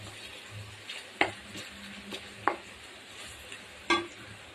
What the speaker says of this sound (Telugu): అల్లం వెల్లుల్లి పేస్ట్ కూడా పచ్చివాసన పోవాలి ఫ్రెండ్స్. ఒక 2 నిమిషాలు బాగా కలుపుకోండి.